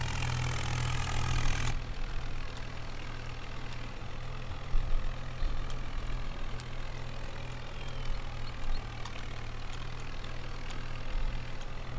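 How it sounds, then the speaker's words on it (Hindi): Tractor engine running steadily in Farming Simulator 19 during wheat harvesting, a continuous low mid-pitched drone with small bumps and clicks, fairly quiet, with no talk. "अभी तो भगाना पड़ेगा भाई ट्रैक्टर जल्दी जल्दी"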